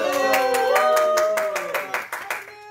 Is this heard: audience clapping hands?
yes